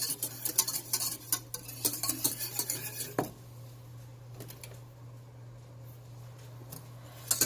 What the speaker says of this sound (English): Now I'm just going to switch over to a whisk